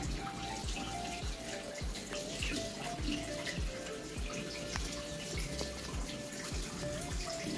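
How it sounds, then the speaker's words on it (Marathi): A water tap runs steadily into a basin at home where hands and feet are being washed, a continuous faint splashing stream with small drips and knocks. "हो ते नळ कमी कर. नळ बंद कर."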